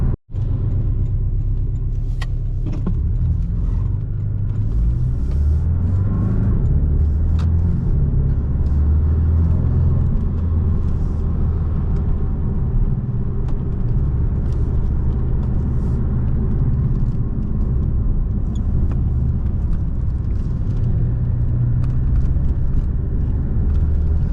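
A 2018 Porsche 718 Boxster roadster driving curvy back roads, heard from inside as a continuous deep engine rumble with road noise, the pitch shifting gently as the car speeds up and eases through bends.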